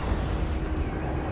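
A Confringo fire spell blast in Hogwarts Legacy, heard as a loud, sustained rumbling roar of flame and explosion, heavy in the low end and lasting just over a second.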